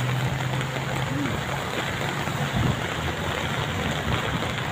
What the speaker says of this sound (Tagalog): Patuloy pa rin pong umuulan mga kayamyan.